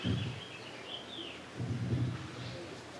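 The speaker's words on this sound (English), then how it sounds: "Birdsong, we're so lucky here." Birds sing outdoors, faint chirps and calls drifting in the distance, with low rumble and soft background noise beneath.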